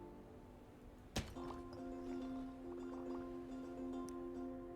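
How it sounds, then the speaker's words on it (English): A sharp, dull thunk as a casino building explodes in the house-building puzzle game Pile Up!, followed by ringing chime-like tones that hold under a quiet background. "Oh, that's the explosion actually."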